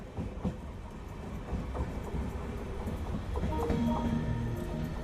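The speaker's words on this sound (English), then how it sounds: "There's a nice blue train on the platform, but it's quite full actually." A crowded blue passenger train idles at a busy Indian railway station platform, with a steady low rumble, faint clanks and squeals, and murmuring crowd noise throughout.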